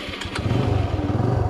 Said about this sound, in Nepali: यहाँ देख्न सक्नुहुन्छ अहिले चाहिँ यो बाइक स्टार्ट भइसक्यो